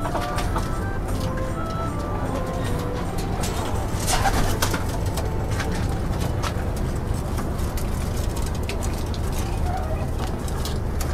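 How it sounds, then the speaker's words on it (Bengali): Pigeons coo softly and steadily among a constant low rumble of background noise, with faint voices nearby. "এখানে এগুলো কবুতর"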